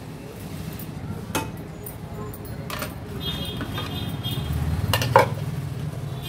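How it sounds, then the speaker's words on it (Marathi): Thick, coarsely ground idli batter of soaked rice and dal being scooped out into a metal pot in a home kitchen, with soft scraping and a few sharp clinks of a utensil against metal under steady background hum. "आता मी हे एका पातेल्यात काढून घेते।"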